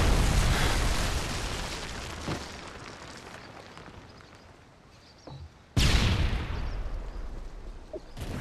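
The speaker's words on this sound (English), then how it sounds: "Friendly predator missile inbound." A predator missile strike in a video game sets off loud explosive booms. The first rumbling blast fades slowly, then a second sharp detonation hits near the end, and no one speaks.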